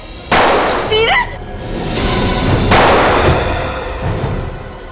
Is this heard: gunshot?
yes